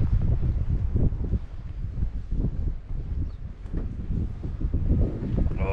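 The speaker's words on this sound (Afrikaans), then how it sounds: "die wind druk hom nogal baie as gister" Strong wind gusts blow across the sea on a fishing trip off Emanzini, buffeting the microphone in a loud, continuous rush with pulsing surges.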